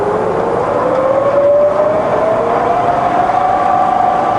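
A fully rebuilt Bridgeport milling machine spindle runs in reverse, a smooth, fairly quiet motor hum with a whine that rises steadily in pitch as the speed increases.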